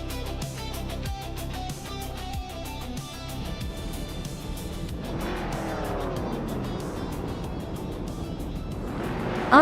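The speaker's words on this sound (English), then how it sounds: "the race has kicked off at Macau Gia" Race cars roar off the start of a video-game race at Macau, a vintage 1971 Ford Falcon among them, engines dense and loud throughout with rising revs and tire squeal building toward the end.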